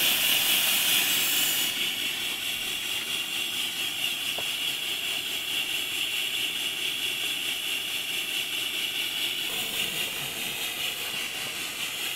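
A continuous roaring hiss of a lit burner heating the boiler of a steam bicycle, steady and close, with a brighter hiss in the first moments and no voices.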